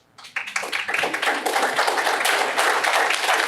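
An audience breaks into applause after a speech, with dense steady clapping that swells quickly and holds loud and close for several seconds.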